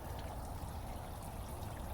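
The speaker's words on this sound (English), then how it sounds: "The dam's just dripping. There's no flow. It's just dripping." Water trickles steadily from a small dam with no real flow, a soft continuous dribbling patter, faint and close.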